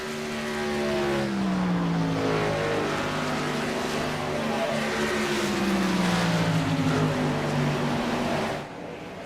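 Race trucks in a National Outlaw Racing Association truck series championship race at Kansas, loud engines droning and shifting in pitch as they pass, a steady roaring pack that fades slightly at the end.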